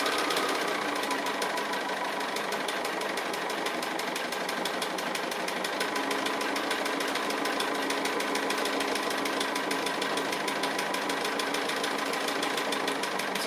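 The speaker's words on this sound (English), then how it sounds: "I'm just free motion stitching. I've dropped my feed teeth, I've got a free motion foot on the machine" A sewing machine free-motion stitches a quilt block with a free-motion foot, feed dogs dropped, a regular needle and 50-weight cotton thread, running in a steady, rapid, close mechanical hum with no breaks.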